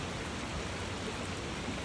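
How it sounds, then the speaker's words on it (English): Steady rain falls on a rainy evening in Frankfort as a cold front passes, a dense, even hiss of drops on surfaces with no other sounds. "It's a rainy evening here in Frankfort."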